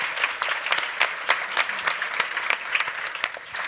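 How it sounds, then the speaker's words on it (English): Applause from a conference audience at an event about women in men's sport, a steady patter of many hands clapping at moderate distance with uneven peaks, no voices on top. "Applause for that, I think."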